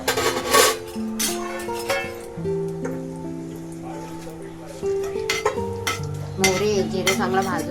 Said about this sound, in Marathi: जिरे चांगला भाजून घेऊया।